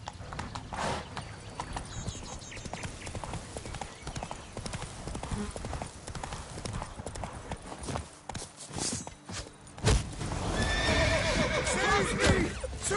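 Roach, a horse in The Witcher 3, gallops with steady clip-clop hoofbeats and lets out a loud whinny near the end, amid game battle noise and shouting voices.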